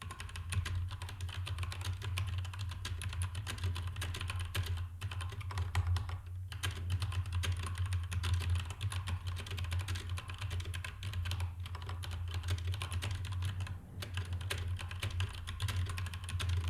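Steady, continuous typing on a computer keyboard during a beginner typing lesson, rapid clicking keystrokes close and alone over a low hum, with only brief pauses.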